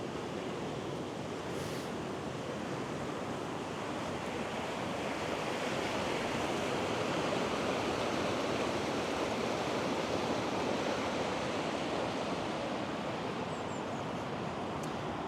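Continuous roaring rush of water pouring and cascading down the stepped spillway of an old reservoir in the Lake District, a loud, steady broadband wash with no pauses.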